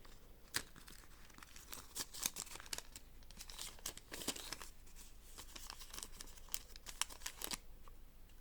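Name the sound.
putting coins into a budget envelope pouch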